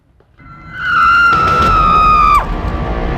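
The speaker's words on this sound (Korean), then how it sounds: "대낮에 울려 퍼진 여성의 비명소리" A woman lets out one loud, sustained scream in broad daylight near a restroom in Seoul, the high piercing wail holding steady for over a second before breaking off abruptly, with street noise continuing underneath.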